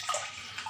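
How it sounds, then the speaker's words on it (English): Water pours into a pot of red kidney beans (rajma) being prepared for cooking, giving a short, close splashing gush. "So in this I'll put water."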